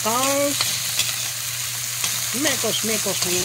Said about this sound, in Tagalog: Gisa natin yung gulay.